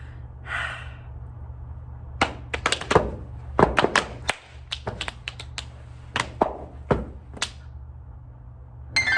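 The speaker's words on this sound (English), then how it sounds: "we get body percussion that sounds a little bit like this" Sharp claps, slaps and thumps of body percussion in an uneven, syncopated rhythm, close and fairly loud.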